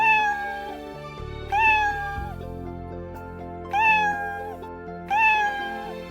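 A house cat meows four times in a clear, close, drawn-out cry with pauses between calls, heard over a soft musical background with no talk.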